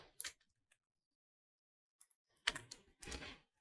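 Short bursts of quiet computer keyboard typing, a few scattered taps and then two brief clusters of keystrokes with near silence between them.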